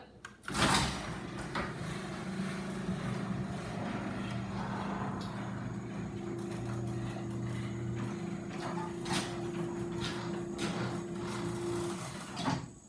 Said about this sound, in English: this right here opened the door